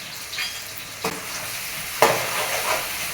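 Prawns sautéing with tomato, ginger garlic paste and pepper give a steady sizzle, broken by three spoon-scraping strokes around the one- and two-second marks; close and fairly loud, with no voices.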